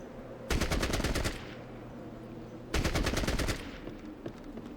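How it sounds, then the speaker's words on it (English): Burst fire from an AK in the video game Fallout Tactics: two loud rapid bursts of about eight shots each, close up and separated by a short pause, over a low steady background hum, no voices. "Burst fire AK from pretty close range turns out to do a lot of damage."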